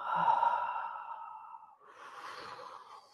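During a stretching session one long, breathy exhale through the mouth fades out slowly, and a second softer breath follows. It is close and clear, with no speech.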